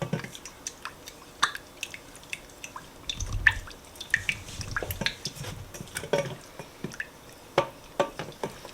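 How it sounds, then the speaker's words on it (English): Cornstarch is stirred into strawberry juice before heating: close, irregular spoon clinks and small wet liquid sounds repeat at an uneven pace, fairly soft, with no talking. "now what we do is we just mix the cornstarch and the strawberry juice together"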